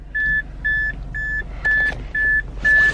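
Six short, high electronic beeps from GoPro cameras powering on, in an even rhythm, each about a quarter second long, with faint background rumble and a brief rustle near the end.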